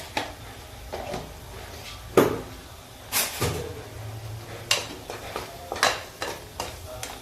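A spoon works salted ground masala paste around a hot pan for drumstick curry, producing a soft sizzle beneath irregular scraping strokes and a few sharp metallic knocks and clatters, close by, without speech.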